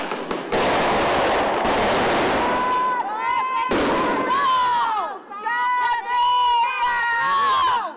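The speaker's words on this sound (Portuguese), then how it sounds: "um grupo de apoio à Lava Jato soltou rojões." Skyrocket fireworks set off by a crowd outside the Federal Police headquarters in São Paulo: a loud whooshing burst of bangs and crackle, followed by a crowd cheering and whistling, with voices talking throughout.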